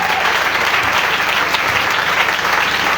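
Steady, dense applause from a church congregation during a year-end thanksgiving service, loud and close, filling the short stretch without a break.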